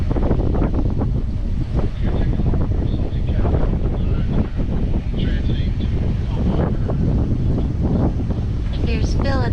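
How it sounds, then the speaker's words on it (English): Gusty wind buffets the microphone aboard a sailboat heading from Marathon to Key West, a loud continuous roar with sharper bursts, joined by faint water wash. "it all of a sudden got windy"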